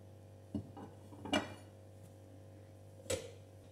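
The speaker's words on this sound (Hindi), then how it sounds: "अब ये ड्राई फ्रूट डाल दूंगी" Ground dry fruits tipped into a pan while making alsi laddu (flaxseed sweets), giving a few soft clinks and scrapes of utensil against the pan, with a quiet kitchen hum between them.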